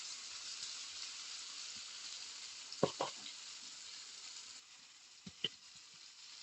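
Ginger-garlic paste and bay leaf with spices sizzle in hot oil for a goat meat curry, a steady soft hiss with a few brief clicks and pops, close but quiet.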